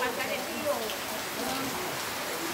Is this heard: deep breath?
no